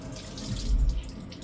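A bathroom tap runs steadily as water wets a cloth during a skincare and makeup routine, a close, continuous hiss and splash with no voices.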